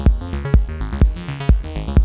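Drum pattern sequenced on a Synthstrom Deluge, clocked with a sequencer, loud and upfront: a heavy kick lands on a steady pulse about twice per second, with pitched synth tones and lighter hits filling between the beats, no voices.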